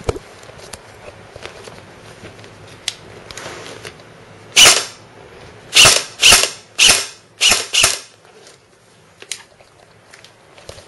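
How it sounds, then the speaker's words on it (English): A G&G GR16 airsoft gun fires with blowback action: one sharp crack, then a quick cluster of four or five close, loud snapping shots, each with a short mechanical clack, against a quiet background. "Here's what the blowback looks like upon closer inspection."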